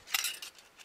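German cutlery set handled briefly, giving a couple of quick light metallic clinks close by, with no talk.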